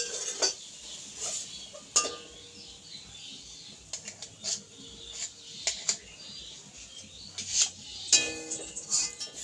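Cooked semolina in a pot is lifted off the stove, giving scattered light clinks and metallic scrapes of the pot and utensil, fairly quiet and close, with faint background noise.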